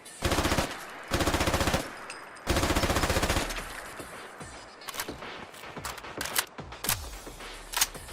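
Remington ACR assault rifle fired in Fallout 4, three loud rapid automatic bursts followed by faster scattered single shots and clicks, close and dominant with no talk.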